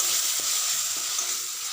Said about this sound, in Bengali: আদা বাটাটা আমি এবারে এর মধ্যে দিয়ে দিচ্ছি, দিয়ে ভালোভাবে আবার কষিয়ে নেব।